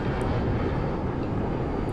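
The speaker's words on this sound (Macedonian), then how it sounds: "Леле, паѓа авионот. Паѓа авионот" An airplane engine in the video game Grand Theft Auto V drones with a steady, loud, broadband roar that holds without change, with no voices over it.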